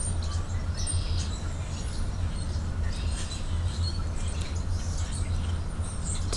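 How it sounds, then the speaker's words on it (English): Birds chirp outdoors in scattered, short calls, heard faintly over a steady low hum and background noise, with no voices. "I hope the sounds of the birds are relaxing."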